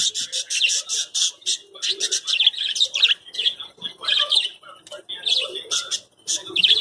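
Caged birds chirp and squawk in quick, bright bursts close by, with the calls clustering into busy flurries and brief pauses throughout.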